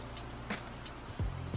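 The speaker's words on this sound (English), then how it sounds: "Is the rain too loud? I can turn down the rain." A rain sound effect runs through a live stream, a steady wash of patter and drops holding even and fairly loud, with a few low thumps and tones underneath.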